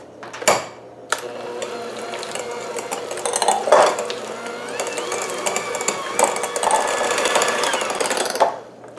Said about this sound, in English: take my mixer and just blend it up until it's nice and smooth